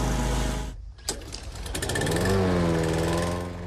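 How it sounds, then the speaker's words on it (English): A lawn mower cutting baseball field grass runs with a loud, close, buzzing engine drone that dips briefly, then rises and holds steady with a shifting pitch. "Generally cuts better when the mower's on the ground."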